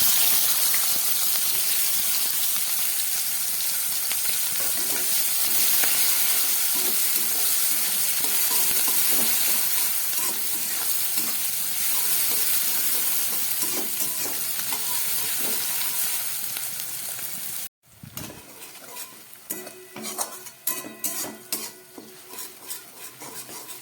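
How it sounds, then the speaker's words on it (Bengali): Onions fry in oil over a low gas flame, with a steady, close sizzle and occasional stirring scrapes. Near the end the sizzle drops away and irregular clanks and scrapes of a spoon in the pan follow. "প্রায় 1 মিনিটের বেশি একটু পেঁয়াজগুলো আমি ভেজে নিলাম একদম গ্যাস কমিয়ে"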